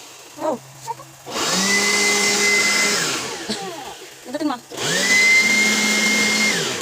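A 2-in-1 blower and vacuum used as a computer cleaner runs in two loud, steady whirring bursts, with short pauses between them where people talk.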